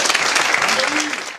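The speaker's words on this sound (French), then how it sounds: "Applaudissez d'abord pour vous-même." An audience applauds itself at an education event, dense, steady clapping filling the brief moment, with a voice briefly audible through it.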